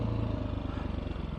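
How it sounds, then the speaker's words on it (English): A 2021 Beta 500 RRS dirt bike engine braking in first gear down a steep trail hill, giving a steady, close, throbbing low engine burble with no voices. "Utilizing the engine braking right now,"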